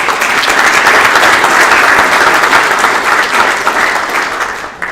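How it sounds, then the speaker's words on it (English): Sustained, loud applause from a crowd honoring the parents of student athletes at a high school National Letter of Intent signing day ceremony, steady throughout and tapering slightly at the end. "Let's give the parents a round of applause."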